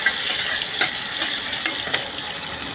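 Onion fries in hot oil for an Assamese fish curry with a bright, constant sizzle and a few quick stirring clicks from a utensil.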